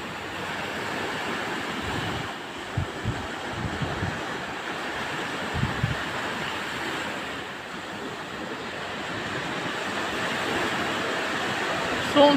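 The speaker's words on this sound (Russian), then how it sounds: "Море сегодня, декабрь." Sea surf on a sunny December day, a steady broadband wash of waves rolling in with wind noise over the microphone, constant and fairly close, with a few louder surges and no voices.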